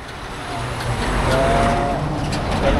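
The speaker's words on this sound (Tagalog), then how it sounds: "Dami sasakyan, di ako makatawid." Heavy traffic moving around a town roundabout: a continuous rumble of cars and engines passing close by, with a brief squeal partway through and no talking.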